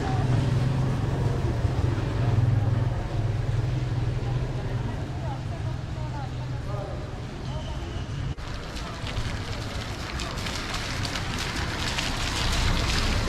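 Steady rain falls at Sringeri beside a temple gopuram, a continuous broadband hiss with a low rumble underneath and voices talking over it throughout.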